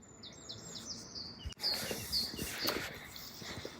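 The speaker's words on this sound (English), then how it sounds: "You can hear the birds." Birds chirp and call outdoors in short, bright, repeated phrases at moderate distance, faint against quiet background noise, with a soft thump partway through.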